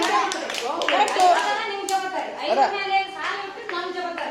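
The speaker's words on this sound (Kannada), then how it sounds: "ಚಪ್ಪಾಳೆ ಹೊಡ್ರಿಪ್ಪ ಅವ್ರಿಗೆ" A group of children clapping hands in a school setting, a quick patter of claps running under adult talk.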